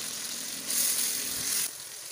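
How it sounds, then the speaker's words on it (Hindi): Prawns for a biryani sizzle in a frying pan, a steady close hiss that swells louder midway and then settles back, with no voices. "इनको अच्छे से फ्राई कर लेंगे"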